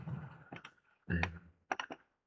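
A few computer keyboard keys pressed in short, separated clusters of close, crisp clicks and clacks, with quiet gaps between the presses.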